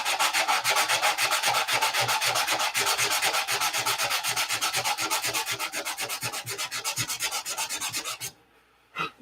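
Wood being hand sanded in a workshop, a steady rhythmic scratch of rapid back-and-forth strokes, close and continuous, ending abruptly with a brief final rub.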